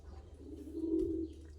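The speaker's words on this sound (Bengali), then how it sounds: "দেখছেন আমার নানার কবুতর" Pet pigeons kept in a village home give a soft, low coo that swells briefly and then fades, heard faint against a quiet background.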